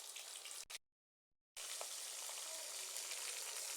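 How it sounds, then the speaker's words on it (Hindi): Potato pinwheel samosas frying in oil, a dense continuous sizzle up close that drops out briefly to silence before resuming steadily, with faint clinks of a utensil. "इसी तरीके से आपने इसको फ्राई करना है"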